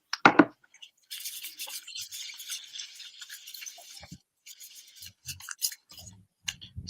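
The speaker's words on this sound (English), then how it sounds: "So as I shuffle these cards" A Sophie Bashford oracle deck of gods, goddesses and guardians is shuffled in a steady soft papery rustle of cards sliding over one another for several seconds, close and quiet, with a few small taps and knocks near the end.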